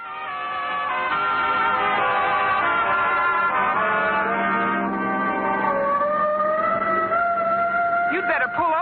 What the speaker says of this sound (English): Oh, the siren.